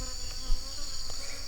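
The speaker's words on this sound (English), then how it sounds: "Fucking wasp on my camera." A wasp buzzes close to a camera outdoors, a steady insect drone with faint flies and other insects around, continuous and fairly loud with no talking.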